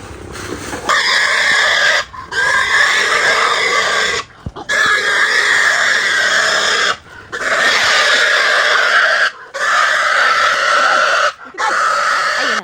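Pigs squeal loudly in long, shrill bursts, several calls separated by brief pauses, close by and with no talking over them.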